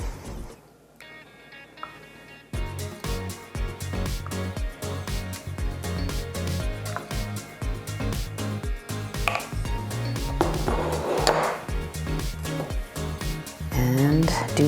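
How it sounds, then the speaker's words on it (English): A spoon stirring pastry cream in a bowl while a Danish layer cake is assembled, giving repeated soft scraping and clinking knocks that start after a quiet opening and run on steadily, close by. "Give it a little stir."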